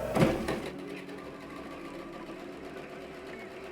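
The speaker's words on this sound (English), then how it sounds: "So just hold it firmly as you sew your stitches." A sewing machine stitching rows of shirring on fabric runs as a steady, even mechanical hum throughout, after a brief louder clunk at the start, close and with no talk.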